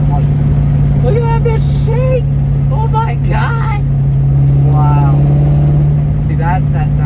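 Car engine with an X-pipe exhaust while driving, a steady low drone held throughout under excited speech from people in the car.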